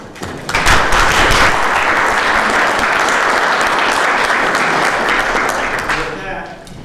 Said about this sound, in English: So I think a round of applause would be great.